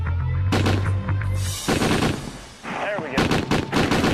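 A warship's deck gun fires in a quick burst of loud, sharp reports, with a brief pause before a second volley, while someone speaks briefly over the blasts.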